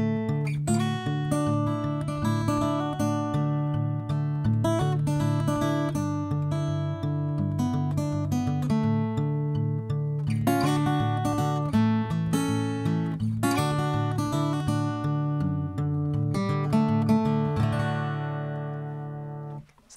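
Fingerstyle blues guitar with a steady alternating thumb bass under picked melody notes from the fingers, played close and continuously for about eighteen seconds before fading out.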